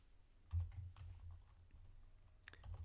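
Keys on a computer keyboard are typed in a few soft, scattered taps and clicks, faint and close over a low background hum.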